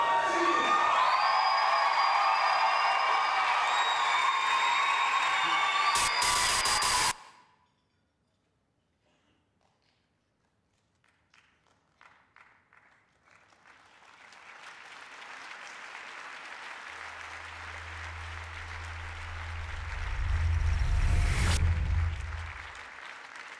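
Audience applause at Bassem Youssef's 2013 IPFA acceptance speech: loud, dense clapping mixed with whoops and cheers for about seven seconds, then a hush, then a second swell of clapping that builds and fades.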